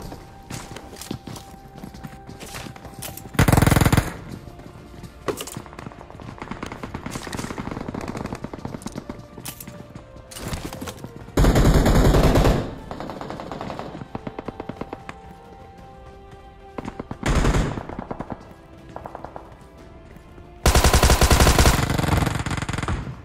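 Gunfire in the battle royale game PUBG, with rapid automatic bursts and sustained volleys repeating across a long stretch, loud and close, broken by quieter gaps.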